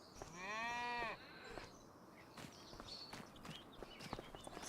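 A single drawn-out cow moo from Farming Simulator 25 sounds near and clear, followed by soft footsteps and light clatter.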